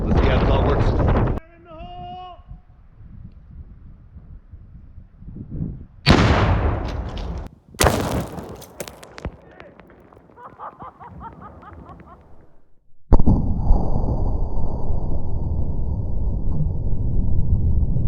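Six pounds of Tannerite blow up an old bicycle, a pumpkin, gasoline and a bag of flour outdoors, heard as loud booming blasts with rumbling and wind buffeting between them, ending in a long, heavy roar.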